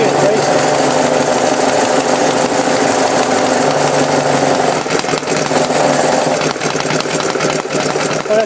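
A rare 100-year-old Briggs & Stratton Model F engine runs fast and racing, a steady close mechanical clatter with rapid rhythmic ticking, while people talk nearby.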